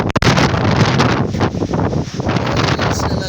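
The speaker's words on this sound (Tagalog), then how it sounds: "malakas ang hangin, sobrang lakas guys" Strong typhoon wind from Typhoon Rolly blasts loudly and steadily across the microphone, a dense roaring rush with buffeting gusts and no pause.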